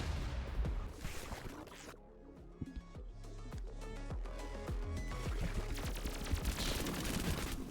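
Rapid gunfire in the shooter game Pathogenic, dense bursts of shots crackling continuously throughout, with a brief lull near the middle before the firing resumes.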